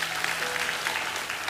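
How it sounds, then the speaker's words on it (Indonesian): A church congregation applauds steadily and fairly loudly, with dense, even clapping throughout a short burst. "Berikan tepuk tangan untuk Tuhan Yesus."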